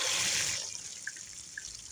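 Water rushing through a Valterra Flush King tank flush valve as the flow starts, a loud hiss that eases off into a quieter steady flow with a couple of faint drips.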